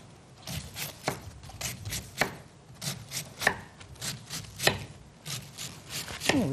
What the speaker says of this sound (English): I am just going to cut mine in half again and slice it up.